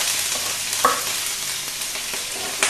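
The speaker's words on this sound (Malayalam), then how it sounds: "എണ്ണ ചൂടായി കഴിഞ്ഞ് ആദ്യം ഇഞ്ചി, അത് കഴിഞ്ഞ് പച്ചമുളക്," Ginger and green chili fry in hot sunflower oil with a continuous close sizzle, broken by a couple of sharp clinks and scrapes of stirring, with no voices.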